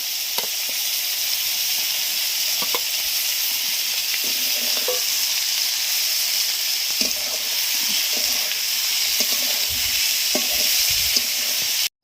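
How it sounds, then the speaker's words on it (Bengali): Ginger and chilli paste sizzles in hot oil with cauliflower and potato pieces, a loud, steady, close frying hiss throughout, broken by soft scrapes and taps of stirring, with no talking. "এবার এতে দিয়ে দেবো আমি আদা আর লঙ্কা বাটা।"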